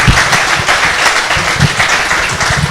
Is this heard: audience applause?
yes